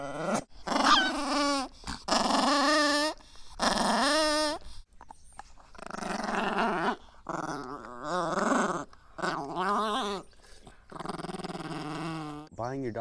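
A husky growls and grumbles while being grabbed as it guards a bone, in repeated drawn-out bursts with short pauses, loud and close, with no speech.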